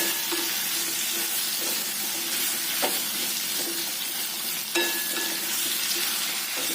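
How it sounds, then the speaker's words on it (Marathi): Guava pieces being stirred in hot oil in a pan give off a steady, loud sizzle throughout, with a couple of faint utensil clinks and no one talking. "पेरूच्या फोडी घालायच्या छान एकत्र करायचं सगळ्या फोडींना तेलाचं कोटिंग होऊ दे"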